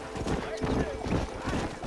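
Steady, rhythmic clip-clop of horse hooves trotting at a brisk pace in the video game Red Dead Redemption, fairly close, with a voice talking over it.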